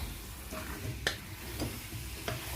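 Pilau with green peas being mixed in a pot, a soft sizzle underneath a few scraping stirs and light spoon taps spaced across a couple of seconds.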